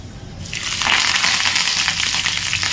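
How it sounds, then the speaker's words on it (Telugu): After a brief quiet moment, a sudden loud hiss erupts as tempering spices hit hot oil, settling into continuous crackling sizzle. "ఇక్కడ ఆయిల్ హీట్ ఎక్కిందండి ఇంక ఇప్పుడు దీంట్లో తాలింపు దినుసులు వేసుకోవాలి"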